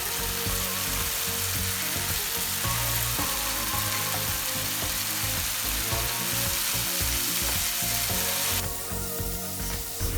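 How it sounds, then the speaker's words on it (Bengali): Chicken vegetable pulao mixture of vegetables, tomato and green chillies frying in a pan, a dense continuous sizzle with occasional stirring scrapes and no voices. "এবার একে একে সবগুলো উপকরণ দিয়ে ভুনা করে নিব।"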